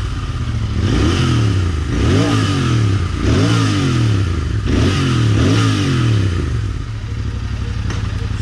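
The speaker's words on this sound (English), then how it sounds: "I'll just ride and you can hear the sound of the engine" A Royal Enfield Interceptor 650 motorcycle with a 6-speed manual gearbox is ridden, its engine and exhaust loud and close. It revs up repeatedly in rising sweeps between gear changes, with a steady low thrum underneath and no talking.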